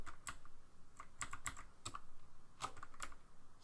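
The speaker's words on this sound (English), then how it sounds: "probably faster to type it" Someone types on a computer keyboard, giving quick, light clicking keystrokes in short bursts with brief pauses, close and fairly quiet, with no talking.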